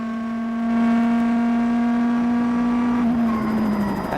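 Gilles Panizzi's rally car at WRC Catalunya 2003 holds a loud, steady high-revving engine note near the rev limiter, then the pitch drops and roughens as it backs off near the end.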